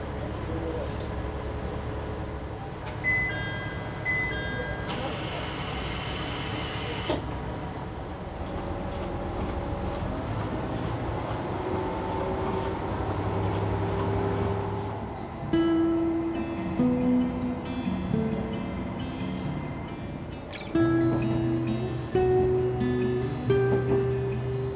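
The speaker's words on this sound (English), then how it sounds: "as this train literally only takes like 8 minutes to run, I'm just going to be recording the whole thing" Onboard a train on Japan's shortest railway line, a continuous low rumble of the running carriage holds throughout, with a brief hiss near the start and tonal squeals and hums later as it moves along.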